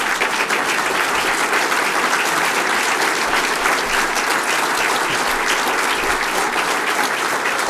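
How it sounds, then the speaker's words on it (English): A standing audience at the 2018 Madison County Republican Party Reagan Day Dinner in Jackson, Tennessee, gives a big round of applause: loud, dense, continuous clapping from a large crowd that holds steady throughout. "let's stand up and give all of these candidates a big round of applause"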